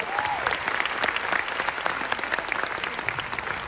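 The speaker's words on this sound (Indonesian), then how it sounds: "Tepuk tangan yang meriah untuk Perapli." Lively, dense audience applause at a studio show, steady and energetic throughout, with a brief whistle-like tone at the start.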